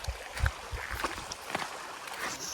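Steady rushing water from a hidden waterfall in a wooded nature spot in Bongaigaon, a faint continuous hiss with a few soft knocks and thuds on top.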